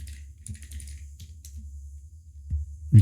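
Keys tapped on a computer keyboard while entering a ticket message into customer support software, a quiet run of light clicks over a low hum that ends in a louder thump.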